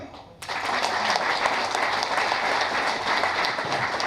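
A crowd of devotees at a spiritual discourse breaks into dense, sustained applause after a brief quiet start, the clapping staying loud and even to the end.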